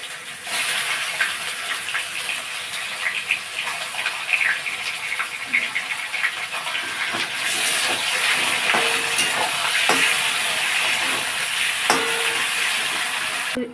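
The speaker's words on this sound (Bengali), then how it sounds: "এখন ম্যারিনেট করা চিকেনগুলো দিয়ে দেবো।" Marinated chicken frying in a pan on a home stove, with a steady sizzle and hiss and the occasional scrape of stirring that carries on without a break, loud and close, with no talking.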